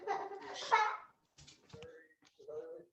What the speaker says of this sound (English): All I heard was our kids screaming.